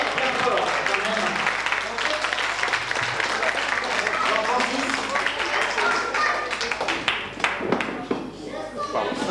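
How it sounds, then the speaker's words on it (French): Applause for a quiz winner at a 50th-anniversary gathering of a foyer, sustained clapping from a crowd filling the room, with voices mixed in and a few sharper claps toward the end. "On peut applaudir très fort quand même."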